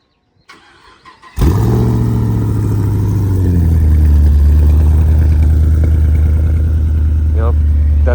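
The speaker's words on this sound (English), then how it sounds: "Yep, that's a cold start." A Chevrolet Camaro engine cold-starting nearby: a brief starter crank, then the engine catches with a loud flare and settles into a deep, steady, high idle.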